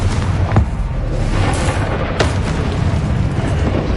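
A Confringo blasting spell explodes in Hogwarts Legacy, with two sharp booming blasts about a second and a half apart over a dense, rumbling battle backdrop.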